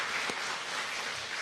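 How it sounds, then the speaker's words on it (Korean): A church congregation applauding together, a dense, steady wash of clapping that fills the whole stretch. "우리 찬양대 위해서 여러분 격려의 박수 한번 부탁드릴게요"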